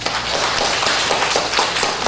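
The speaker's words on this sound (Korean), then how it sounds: "우리 화이트 폴라 여성 목사 위해서 큰 박수하겠습니다." Steady, dense clapping from a church congregation at a Korean worship service, a continuous crowd applause held at even loudness for the whole stretch with no voices on top.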